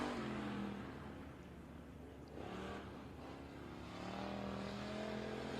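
Race car on a Kennedale track during factory stock and sportmod time trials, with a continuous engine roar that rises and falls in pitch as it accelerates, fairly distant and unbroken.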